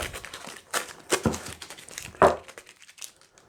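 Masking tape being peeled off freshly glued quilt binding, a run of dry crinkling and tearing rips in short bursts, close and fairly quiet, with one louder rip near the middle.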